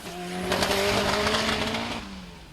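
A four-wheel drive VW race car at Mason Dixon roars past at speed, its engine note swelling loudly, pitch dropping as it passes and fades.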